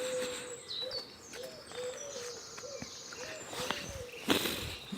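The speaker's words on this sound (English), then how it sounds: "All the birds are singing." Birds singing in woods just after 5 in the morning at dawn, many overlapping chirps and whistled calls near and far, with crickets and a few footsteps or rustles underneath.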